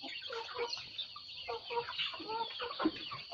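Bangkok chickens cluck and chatter softly while feeding, a quiet, continuous flock murmur with overlapping calls.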